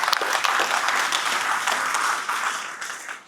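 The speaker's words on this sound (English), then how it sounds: "Please give yourselves a round of applause" An audience applauds itself at a motivational talk: a short, steady burst of clapping that tapers off toward the end.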